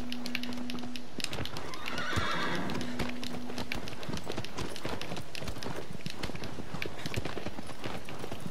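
A horse gallops and neighs in the video game Shadow of the Colossus: steady, close clip-clopping hoofbeats run throughout, with a whinny early on.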